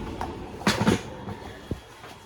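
Passengers board a train coach, with a few sharp knocks and clunks of doors and luggage against a low background murmur of the rail setting, the impacts brief and separated by quieter stretches.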